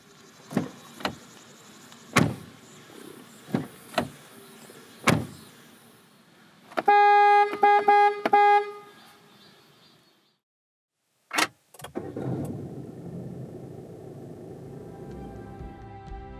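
Inside a 2020 Peugeot 2008 1.5 BlueHDi diesel, sharp clicks and thumps of doors and controls, then a power window whirring, a short silence, and the engine turning over into a low idle.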